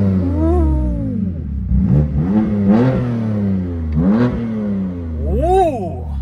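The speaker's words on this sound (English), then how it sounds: "Did I mention that the car has a Grail exhaust system? So before we fill up, let's have a quick listen" A BMW M2 with a Grail exhaust system revs repeatedly, the exhaust rising and falling in several throaty blips, loud and close, with no talking.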